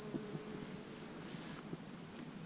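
Bees in a garden field: steady insect buzzing and chirping pulses repeat rhythmically outdoors, fairly faint, with a low background hum and no voices.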